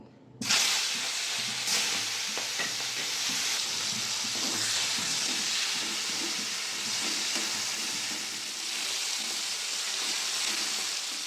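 Prawns rubbed with salt and turmeric drop into hot oil, bursting into a loud steady hissing sizzle that holds close and even, with no voices.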